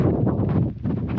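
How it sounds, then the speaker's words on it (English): Wind buffets the microphone outdoors during a training workout in a low, continuous rumble with gusty swells, fairly loud and close. "it is windy out here"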